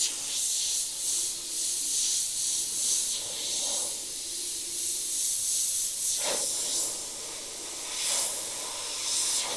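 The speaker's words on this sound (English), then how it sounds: "HP.TH is a great addition if you want something that is more like a mini spray gun but can still be used as a medium-sized airbrush" An Iwata HP.TH airbrush sprays with a steady, bright, airy hiss that holds continuously, with brief swells in pressure partway through and no voices.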